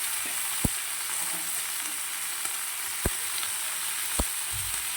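Coriander and cauliflower leaves fry in hot oil with a steady, even sizzle, broken by a few sharp knocks of a spatula against the pan as they are stirred; no one speaks.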